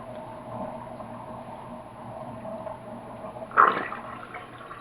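Dirty rinse water draining out of a bowl of washed greens, a soft steady watery wash that swells into a brief louder gush near the end.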